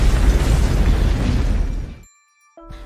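A huge roaring explosion of an airplane in the film Black Widow (2021), a rumbling blast that cuts off abruptly into silence, followed by a faint ringing tone.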